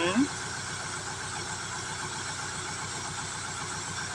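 A Taiwanese one-inch three-cylinder pump drives a fertilizer sprayer with a 200-litre tank and ten nozzles. Its steady mechanical drone runs without a break, and a brief voice sounds at the very start.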